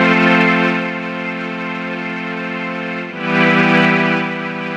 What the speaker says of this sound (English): And you can hear the difference right now with a dirty notch blend.